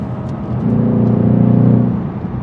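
A stock Ford Mustang GT engine revs up briefly, its deep growl swelling loudly then easing back down, close by with no talking.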